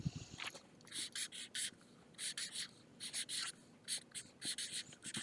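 A marker or pen scratching out a title by hand on paper, a series of short rhythmic strokes in bursts with brief pauses between words, close and fairly quiet.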